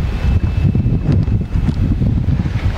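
Strong wind buffeting the microphone beside a carp fishing pond, a constant low rumbling roar with gusty fluctuations, loud and close.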